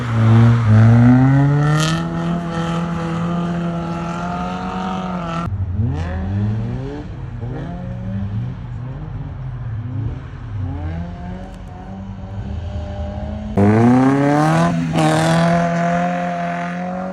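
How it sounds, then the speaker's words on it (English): A Mazda Miata drift car revs hard, its engine climbing and falling repeatedly in loud, rapid sweeps, with one quieter wavering stretch of lower revs before it roars up again. "I'll put up some clips of me drifting this car right now"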